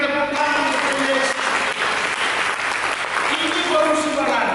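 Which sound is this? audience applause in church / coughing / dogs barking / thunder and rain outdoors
audience applause in church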